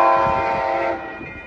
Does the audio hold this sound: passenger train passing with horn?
yes